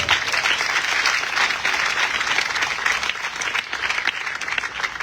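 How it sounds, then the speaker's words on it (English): Audience at a presidential event honoring a military hospital commander in Sierra Leone breaks into sustained, dense applause, many hands clapping steadily and fairly loud with no speech over it. "I think the Commander 34 Military Hospital please deserves another resounding applause"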